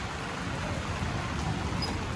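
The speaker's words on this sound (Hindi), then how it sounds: "मैं आपको बाहर का दिखा देता हूँ कैसी बारिश आ रही है" Heavy rain pours down outside a house during a downpour, a steady dense broadband wash of drops drumming on surfaces, continuous and fairly loud with no voices.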